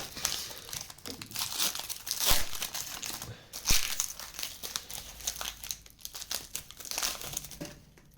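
A Pokémon card booster pack wrapper is torn and crumpled open by hand, with close, continuous crinkling and ripping of foil plastic lasting several seconds, with no talk.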